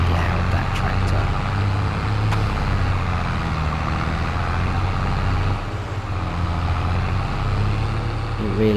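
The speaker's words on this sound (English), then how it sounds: "Very loud, that tractor." A tractor engine in Farming Simulator 22 drones loudly and constantly with a deep low rumble, running steadily throughout without pause.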